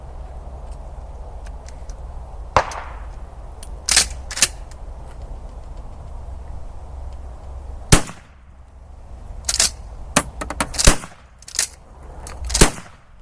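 Pump-action shotgun fired at an outdoor range: several sharp, loud blasts spaced a second or two apart, some followed by quicker clusters of shots, with a low background rumble between them.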